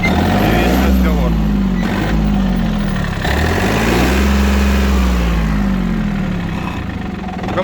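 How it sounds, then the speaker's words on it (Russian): A Yanmar F-200 Japanese mini tractor's diesel engine idles close by, a loud, even low rumble with rhythmic pulsing and slight pitch swells, steady for the whole stretch. "Работает трактор отлично."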